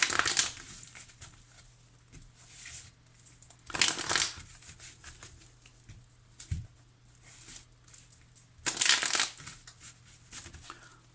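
Tarot cards being shuffled before a love reading, soft papery riffles and crinkles coming in a few louder bursts with quieter handling between, close and moderately faint, with no talk.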